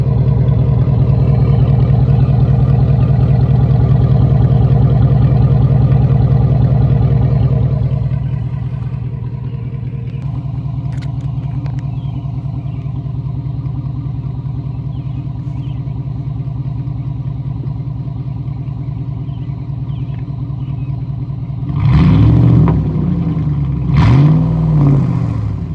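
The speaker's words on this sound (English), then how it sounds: "check out my exhaust, see what you think about how it sounds." A pickup truck's factory single exhaust rumbles at a loud, steady idle that drops in level partway through, then two short revs swell near the end.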